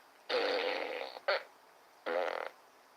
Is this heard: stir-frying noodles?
no